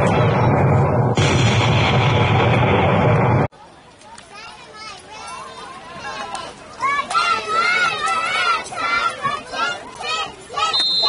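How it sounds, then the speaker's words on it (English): A sudden loud cannon boom at a youth football game after a touchdown rumbles for a few seconds, then cuts off and gives way to children's voices and crowd chatter. "Fire the cannon."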